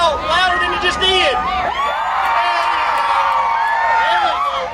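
A crowd of adults and children at an Independence Day watermelon eating contest in Clarksville yells and whoops loudly, a dense, continuous cheer with shrill individual shouts rising above it.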